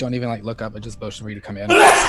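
A single loud sneeze bursts out at the end, right after close-up talking that runs up to it.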